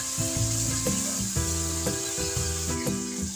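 Spices for Pakistani dhaba-style chana dal frying in hot oil, a steady close sizzle with repeated scraping strokes of a spoon stirring through the pan, no voices.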